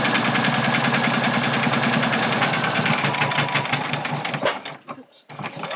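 Sewing machine backstitching while making a fabric bunny, a loud, close, rapid mechanical chatter that runs steadily, then slows and cuts out near the end before a brief restart, with a voice speaking over it.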